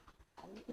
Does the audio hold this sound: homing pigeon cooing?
yes